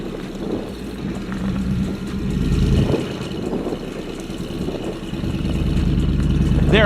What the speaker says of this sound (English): with the locker, the H2 confidently drives with a minor spin of 3 wheels